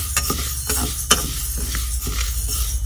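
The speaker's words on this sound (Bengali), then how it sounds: "মুগ ডালটা একটুখানি ভাজা করে নিচ্ছি" Mung dal is dry-roasted in a pan with a light sizzle and scraping, clinking spatula strokes at an irregular rhythm, close and without talk.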